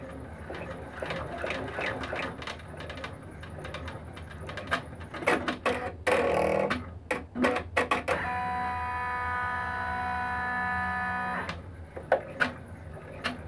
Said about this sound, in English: go ahead and stitch the next placement stitches for the next piece of fabric.